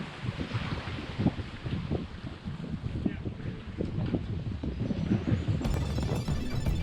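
Twin engines drone steadily aboard a homebuilt catamaran at sea, mixed with heavy wind buffeting the microphone and water noise, continuous and loud with no talk.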